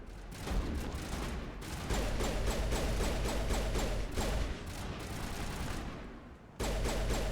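Heavy automatic turret fire in the video game Mass Effect: a dense, continuous volley of rapid shots, loud and close, with a brief lull near the end before the barrage resumes.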